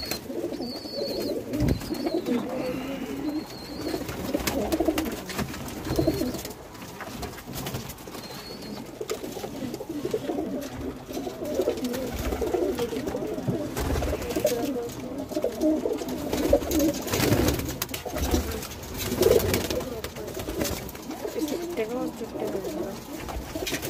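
Pigeons, pairs kept by a fancier in Moradabad, coo in low, throaty rolling phrases that repeat steadily throughout, with fluttering and faint background activity around the loft.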